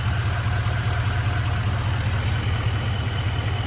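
The 6.6 liter Duramax V8 diesel in a 2024 Chevrolet Silverado 3500HD dually idles close by with a steady, deep, rumbling clatter that stays even and unbroken throughout.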